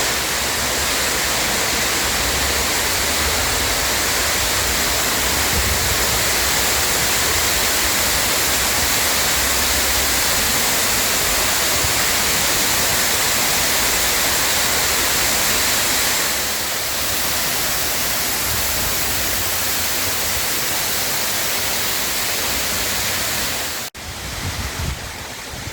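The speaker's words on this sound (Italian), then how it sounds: "La grande cascata del Bois de Boulogne si trova proprio dall'altro lato rispetto all'ippodromo di Longchamp" Grand Cascade waterfall in the Bois de Boulogne, Paris: a steady, dense roar of falling water fills the scene continuously and loudly, with no voices, cutting off abruptly near the end.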